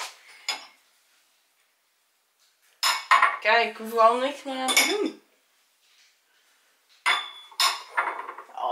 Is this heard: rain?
no